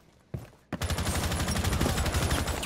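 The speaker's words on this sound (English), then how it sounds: "Of course he's using a shotgun." Rapid, loud gunfire in the video game Rainbow Six Siege, with a couple of sharp shots followed by a dense sustained burst.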